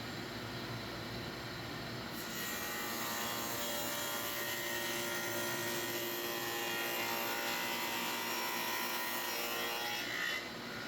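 Harbor Freight dado blade on a saw cutting a wooden board, a continuous dense whirring grind that holds steady for about ten seconds, fairly quiet in level and without talk.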